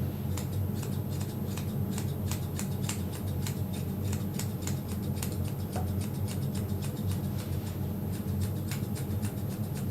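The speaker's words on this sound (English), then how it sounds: "Get this hair trimmed off." Grooming scissors trimming a dog's hair: quick, crisp snips repeat in irregular bursts over a steady background hum, close to the listener.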